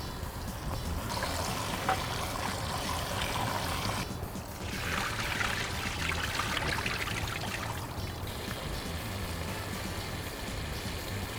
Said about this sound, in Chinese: 先把这个脏水倒了。